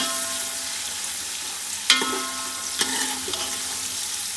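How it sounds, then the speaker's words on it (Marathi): Onions frying for chicken biryani hiss steadily in a pan, and a few distinct scraping stirs break through the close, loud sizzle. "कांदा भाजून घेतो आपण"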